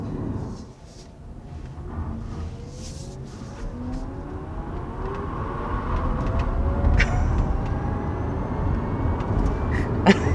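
A 2022 Chevy Bolt EV driving on a road with a bit of gravel, a rising tire and road roar growing louder with faint tonal whines from the tires, heard from inside the car without talking.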